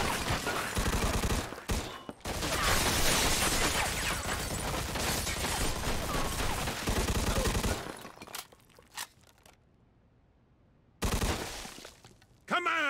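Sustained gunfire bursts rain down from an elevated position in a Mafia 2: Definitive Edition shootout, loud and dense for about eight seconds before breaking into scattered single shots, a near-silent lull, then another sharp volley.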